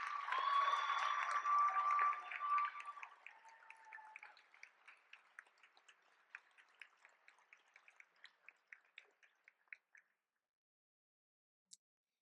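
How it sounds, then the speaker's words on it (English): Final round of audience applause at a class night event honouring five Golden Knights. It starts as a dense crowd clap, thins out quickly to a few scattered claps, and ends with one last isolated clap. "What a final applause for our five Golden Knights."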